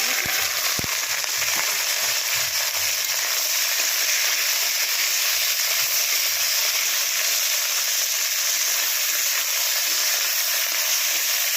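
Nigella seeds and sliced okra fry in hot mustard oil, giving a loud, continuous crackling sizzle that stays dense and even throughout, with a faint stir or clink near the start.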